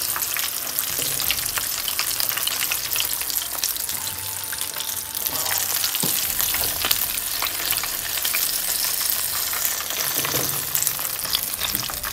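A batch of crispy chicken fries in hot oil, giving a dense, continuous sizzle and crackle at close range with occasional stirring sounds.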